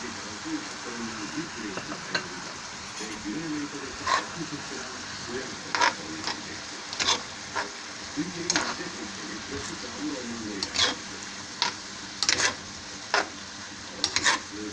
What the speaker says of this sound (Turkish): Şimdi kapya biberimizi atıp Biraz karıştırıp tekrar tencerenin kapağını kapatacağız.